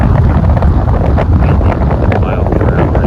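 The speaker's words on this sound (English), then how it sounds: "that wind, the wind gusts are pretty strong" Strong wind gusts roar across an outdoor Halloween yard haunt during a storm, a steady, loud, blustery rush buffeting the microphone for the whole stretch with no letup.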